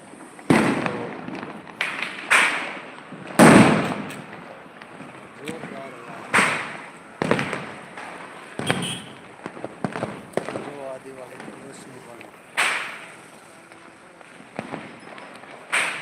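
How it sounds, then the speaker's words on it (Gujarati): Small firecrackers pop in a sharp, loud series outdoors, each burst snapping out alone at irregular intervals, with voices talking in the background between the bangs. "નાનો એવો ફટાકડો તતડિયો પણ કેટલો એનો અવાજ દે"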